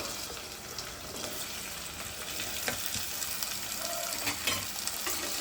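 Beetroot and potato pieces frying in a pan, a steady close sizzle with occasional stirring scrapes and crackles throughout, no talking.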